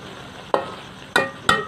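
Whole spices of curry leaves, cumin, cloves, cinnamon and black pepper being stirred in a pan, three distinct scraping strokes spaced apart over a faint steady background.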